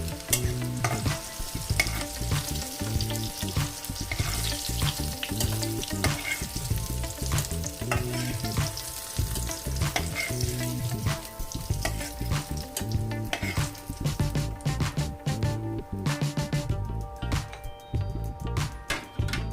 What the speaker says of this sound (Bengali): দেখুন উচ্ছে ভাজা হয়ে গেছে, এবার আমি উচ্ছেটা তুলে নিচ্ছি।